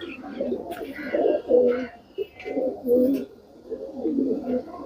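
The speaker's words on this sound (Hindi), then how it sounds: "ये आप देख रहे हैं पुरानी नस्लों के कबूतर, जयपुर टोंक पीजन्स के ऊपर आप देखते आए" Old-breed Jaipur Tonk pigeons coo close by, a series of soft throaty rolling coos in repeated bursts, with faint higher chirps in the background.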